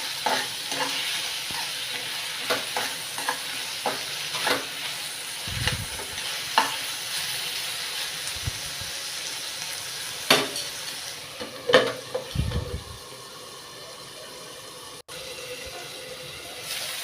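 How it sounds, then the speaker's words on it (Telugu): Tomatoes frying in a pan for a wheat rava tomato upma, a gentle continuous sizzle under scattered clicks and scrapes of stirring, with a few short bumps and knocks. "టమాటాలు కూడా బాగా వేగాలి"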